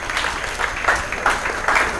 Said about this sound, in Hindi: रानिका चौहान के लिए तालियां बजाइए जरा